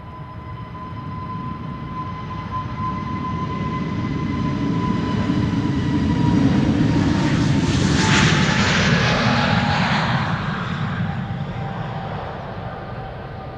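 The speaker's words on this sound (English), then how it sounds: "The first one is already taking off. No time to waste. SAS A320neo going to Stockholm" An SAS Airbus A320neo jet takes off at Schiphol Airport bound for Stockholm, its roar building gradually to a loud, rushing peak with a rising whine, then slowly easing away, with no talking.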